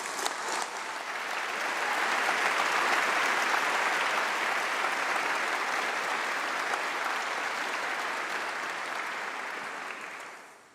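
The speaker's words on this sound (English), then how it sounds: "To all the doctorates, a huge round of applause." Large audience at a university graduation ceremony applauding PhD graduates, a dense, loud, continuous round of clapping that holds steady for about ten seconds before tapering off.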